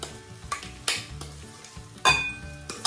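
Boiled potato mash being stirred into a spiced, tempered mixture in a pan for aloo paratha filling, with a few sharp scraping strokes and soft sizzling between them, close and fairly quiet.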